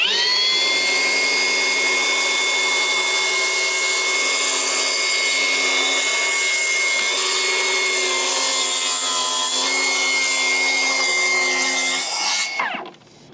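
Milwaukee 18V cordless 165mm track saw with a dust bag fitted, cutting through decking boards: a loud, close, sustained whine with a steady pitch for over twelve seconds, then winding down sharply as the cut ends.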